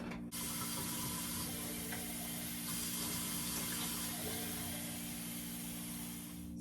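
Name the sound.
water running from a tap into a kettle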